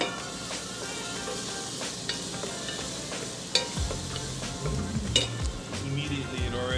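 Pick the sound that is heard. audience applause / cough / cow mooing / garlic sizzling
garlic sizzling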